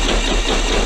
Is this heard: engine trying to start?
yes